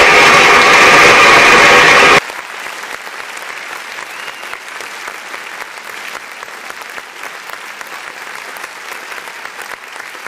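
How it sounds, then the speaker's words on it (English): A loud, dense burst of applause for a podcast's 76th episode lasts about two seconds, then cuts off abruptly to a faint, steady hiss. "Let's go ahead and get a round of applause for 76 episodes"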